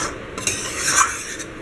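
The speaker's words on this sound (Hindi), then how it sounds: "इसको हल्के हाथ से एकदम चलाते रहना है" A spoon scrapes steadily through thick mohanthal gram flour mixture in a pan, off the heat, making a short continuous rasping stir up close with no voices.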